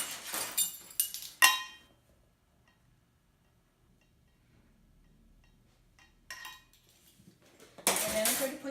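A metal measuring spoon clinks against a bowl while a teaspoon of salt goes into all-purpose flour, with bright, close scrapes and taps in short bursts at the start and end, separated by a long quiet stretch.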